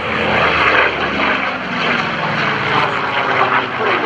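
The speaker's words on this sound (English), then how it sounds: "Although Chad Boyd designed the Corsair you're seeing, with Stan Musick performing an inside loop" An F4U Corsair propeller warplane flies an inside loop at an air show, its piston engine giving a loud, steady roar throughout with slight swells in intensity.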